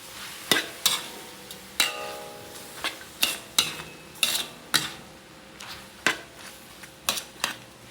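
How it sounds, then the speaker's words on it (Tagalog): Spoon clacks and scrapes against a pan as bopis with bay leaf is stirred, irregular sharp knocks over a faint sizzle, close and alone. "Then, hahaluin muna natin to."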